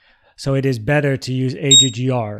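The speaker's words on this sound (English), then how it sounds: "That was my alarm" A phone alarm sounds briefly as a few thin, high electronic beeps near the end, mostly buried under a person talking steadily during a live trading stream.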